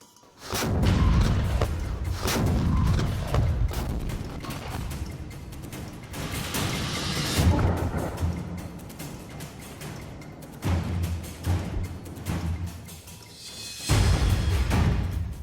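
A Soviet MT-12 Rapier 100mm anti-tank gun fires outdoors, giving heavy booming blasts with rumbling decay, the loudest near the start and again at the end, repeating over the clip.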